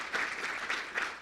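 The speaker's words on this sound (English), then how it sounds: "give our panelists a round of applause" An audience at a university admissions and campus life panel session claims applause for the panelists, a brief burst of dense, even clapping at moderate distance with no talk over it.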